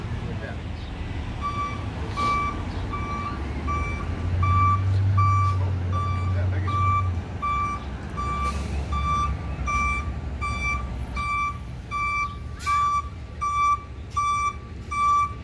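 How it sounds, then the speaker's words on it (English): A tow truck reversing on a street, its backup alarm sounding a steady series of evenly spaced, sharp electronic beeps over a low engine rumble, with people talking nearby. "Is that the tow truck? Yep, that's the tow truck."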